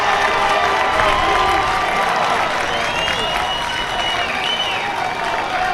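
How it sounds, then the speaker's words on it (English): Baseball crowd at an O'Connor game cheering and clapping after a foul ball, a dense, steady roar of many voices and applause filling the whole stretch, with some shouting mixed in. "you'll hear the OC crowd get back on their feet"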